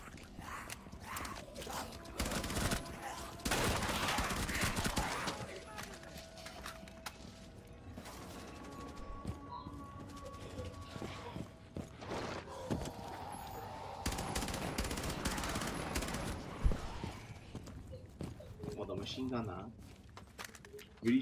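Gunfire in Rainbow Six Siege, several bursts of automatic shots spread across the stretch, mixed with footsteps and mechanical game sounds while players talk over it.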